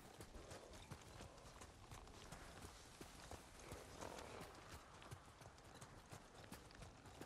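Horse hooves gallop steadily in the video game Ghost of Tsushima, a dense rapid clip-clop running continuously at close range over busy game background sound.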